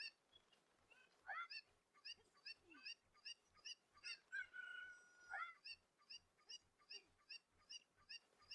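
Cucco chickens from the Zelda Ocarina of Time game cluck in a quick repeating stream of short, bright calls, with a couple of longer squawks midway, steady and fairly quiet, with no talking.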